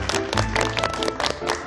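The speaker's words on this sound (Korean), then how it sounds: "박수 한번." A studio audience at a Korean lecture show claps briefly in a short burst of clapping, with a low tone sustained underneath.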